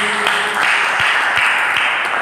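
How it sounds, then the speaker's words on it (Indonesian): A church congregation claps together for Jesus during an Indonesian Ascension Day sermon, producing a broad wash of applause with a steady, rhythmic pulse of beats. "Berikan tepuk tangan bagi Yesus."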